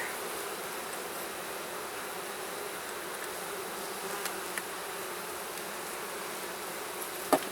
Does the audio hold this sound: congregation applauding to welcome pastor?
no